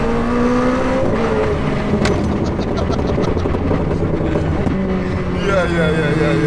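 Nitrous-equipped McLaren 765LT accelerating hard in third gear, a loud rising engine roar heard from inside the car, with a voice speaking over it.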